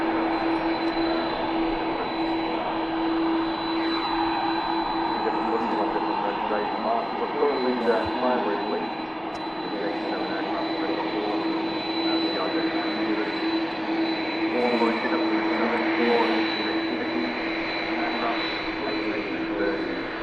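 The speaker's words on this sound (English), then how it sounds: "Here she is, the Airbus A330 300 series." Gulf Air Airbus A330-300 jet engines at Manchester Airport, a steady loud roar with a sustained whine, continuous throughout with voices talking underneath.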